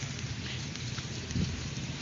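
Heavy drizzle falling outdoors, a faint steady patter and hiss with a low rumble and one brief thump, no voices.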